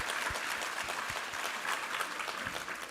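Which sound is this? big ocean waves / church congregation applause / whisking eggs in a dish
church congregation applause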